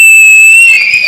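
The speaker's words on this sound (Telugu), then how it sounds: "ఒక్కసారి విజిల్ కొట్టి వెళ్ళిపో." A loud, steady whistle rings out as a sustained high tone that wavers and breaks off near the end, over a faint background.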